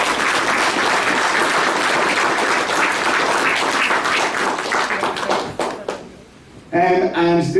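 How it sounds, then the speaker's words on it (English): An audience in a theatre gives a round of applause for a community figure, sustained loud clapping that fades out near the end before a speaking voice returns. "I'd like to give a round of applause to Noel from SuperValue."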